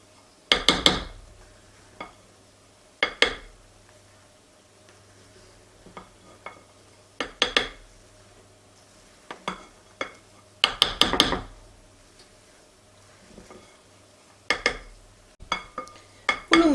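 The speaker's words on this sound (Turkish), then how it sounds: "Yine unla birlikte karıştırmaya devam edelim" Soufflé omelette batter stirred with flour in a bowl: a spoon or whisk repeatedly clinks and scrapes against the bowl in irregular bursts, close up, with quiet pauses between strokes and no talking.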